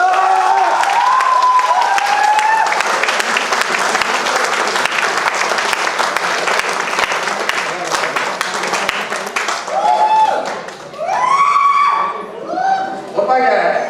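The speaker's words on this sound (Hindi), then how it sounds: "जब तक लाइट नहीं आती तब तक थोड़ी थोड़ी हम तालियां बजा लें" A crowd at a motivational talk claps loudly and continuously for about ten seconds, then the applause thins out as a voice takes over and speaks through the last few scattered claps.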